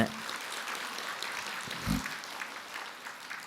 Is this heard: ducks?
no